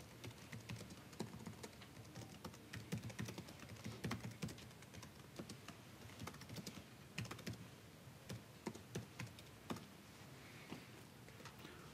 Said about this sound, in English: I'll just type in some information